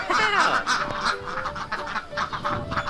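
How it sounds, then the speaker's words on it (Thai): Ducks and geese quacking and honking near water as a flock moves across to the other bank, with repeated overlapping calls over steady outdoor background noise. "โอ้ดูครับเป็ดกำลังย้ายฝั่งครับ"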